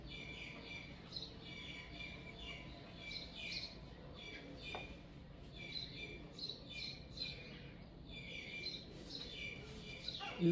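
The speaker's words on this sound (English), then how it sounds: "All you do is hear the beautiful birds. They wake up and they sing." Many birds chirp and sing continuously in the morning at moderate distance outdoors, with overlapping calls and a steady low background hum.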